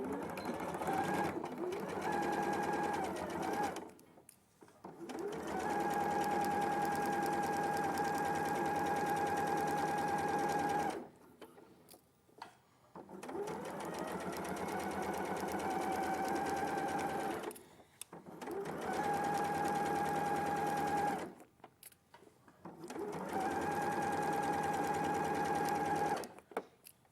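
A sewing machine stitches a pocket seam in long steady bursts of motor whir, stopping and restarting several times, with brief quiet gaps where faint voices can be heard.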